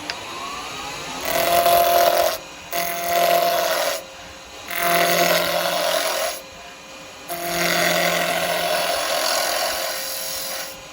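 Carbide tool roughing down a wooden blank on a lathe while turning a Christmas tree; four sustained bursts of loud, scraping cutting noise separated by brief pauses.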